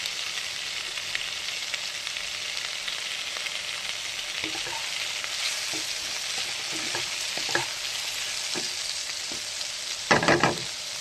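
Tomatoes with a pinch of salt sizzling and frying in a pan, a steady close crackling hiss broken by scattered soft clicks of stirring and a louder scrape near the end, with no talking.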